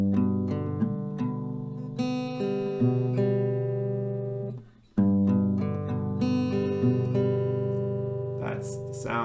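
An acoustic guitar picks the G part of a song, ringing single notes and open strings in a steady, sustained pattern with one brief pause midway, played alone without talking.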